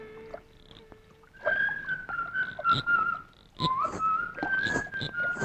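A person whistles a sustained, wavering tune in a clear, close tone, with a few short breaks between phrases and faint background sounds, in a scene from an old Telugu film.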